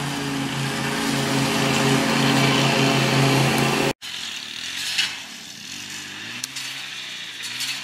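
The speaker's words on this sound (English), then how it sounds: "the lawn mowing he's doing is not only taking down the underbrush, but it's also mulching the leaves" A lawn mower clears underbrush and mulches leaves outdoors, its engine running as a steady loud drone that drops off abruptly midway. A lower, fainter engine hum continues afterward with a few scattered knocks.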